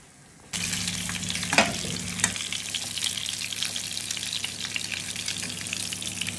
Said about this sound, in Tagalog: Ito na ang pagkakaprito niya guys.